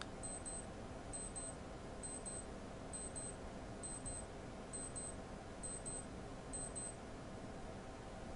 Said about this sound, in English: Wait for this watch to stop beeping.